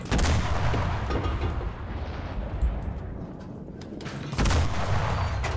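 Artillery shells and bombs bursting in the video game Enlisted, heavy rumbling blasts that swell at the start and again near the end, with a dull roaring wash in between.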